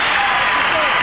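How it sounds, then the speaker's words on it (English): A basketball arena crowd roars and applauds at a Bulls versus Pistons game, a dense, steady wall of cheering with a commentator's voice over it. "The crowd is cheering here for the Bulls right now, and the Pistons as they leave the court."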